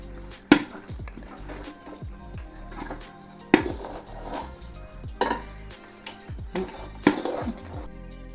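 Chicken curry being stirred in a pot, with a utensil scraping and clanking against the metal in irregular strokes and a few sharper knocks, close by and moderately loud.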